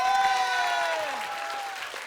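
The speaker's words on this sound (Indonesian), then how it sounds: "kita kasih tepuk tangan dulu dong buat Bang Mali, Pak Jajan, dan Pak Bolo." Studio audience on a comedy variety show clapping, a dense burst of applause mixed with a sustained tonal hum and squeal, fading slightly toward the end.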